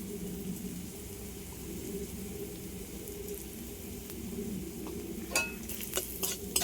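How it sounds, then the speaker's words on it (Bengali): Vegetables frying in a pan with Maggi masala, coriander powder and chili flakes, a steady soft sizzle with light stirring, then sharper scrapes and clinks of a utensil against the pan near the end. "সবগুলো আরেকটু ভেজে নেবো"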